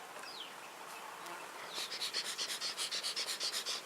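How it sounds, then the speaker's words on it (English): Honey bees buzz loudly at an open hive during an inspection, the hive noted as grumpier than usual. A faint hum grows into a close, pulsing buzz that comes in rapid rhythmic swells as the bees stir near the microphone. "bees seem to be a little bit grumpier in this hive than normal"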